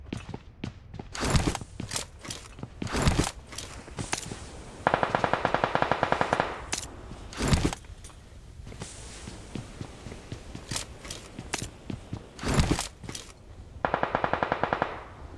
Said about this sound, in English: And the bullet sprays continue.